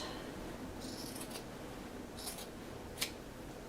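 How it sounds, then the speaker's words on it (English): Scissors cutting through folded fabric for the inside pocket of a tote purse, with a few quiet, brief snips against faint background hiss. "fold the inside pocket in half and cut it in half so that we will have 2"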